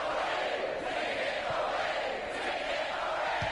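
An arena crowd roars continuously after a windmill dunk in the NBA 2K16 basketball video game, a broad, dense cheer holding steady at moderate level with no voices standing out.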